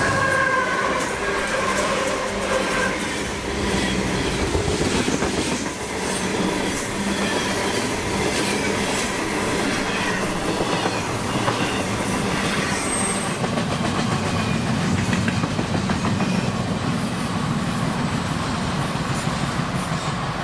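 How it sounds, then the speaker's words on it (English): A nightly intermodal freight train out of Tampa passes steadily for the whole stretch, a continuous loud rumble with clickety-clack wheel rhythm and occasional wheel squeal, no voices. "The train in question would be I-044, nightly intermodal out of Tampa's Uceda Yard"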